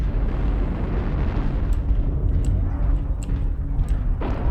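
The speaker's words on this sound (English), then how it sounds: "Enjoy that airstrike, jerk." Airstrike explosions in MechWarrior Online rumble as a continuous, heavy low roar of blasts that barely lets up, with no speech over it.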